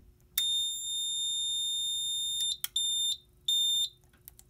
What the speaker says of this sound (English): now we are going to reset the alarm